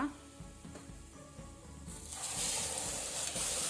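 Green masala paste hits hot oil with fried garlic in a pan for pork curry, giving a steady sizzle that swells sharply into loud, bright frying hiss halfway through, with faint stirring and a quiet voice underneath.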